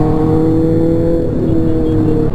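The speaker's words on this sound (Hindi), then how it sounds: "थोड़ी स्पीड बढ़ाते हैं, थोड़ा रेव करते हैं और ट्रैफिक आ जाता है" Sport motorcycles, including a Kawasaki Ninja 1000, rev and whir loudly in city traffic, a continuous close engine drone with rising throttle and no talk.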